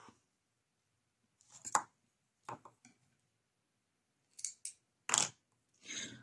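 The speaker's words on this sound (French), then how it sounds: "les petits ciseaux là de chez Dream Stitch, là, ils coupent bien" Small Dream Stitch embroidery scissors snip cross-stitch thread in a series of short, crisp cuts, close and quiet, arriving in separate little clusters with silence between them.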